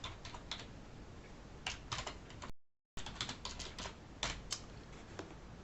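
A password is typed on a computer keyboard, with sparse, quiet key clicks in small clusters, a brief gap of silence in the middle, then a few more taps, close and faint with no talk.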